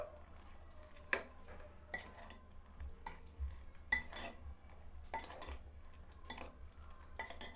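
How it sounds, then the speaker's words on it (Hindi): Whisked yogurt is stirred into a soybean curry in a pot, giving quiet, repeated light clinks and scrapes of a spoon against the pan at an uneven rhythm. "और अब इसे हम इसमें डाल देंगे और अच्छे से मिक्स कर देंगे सारी चीज़ों को।"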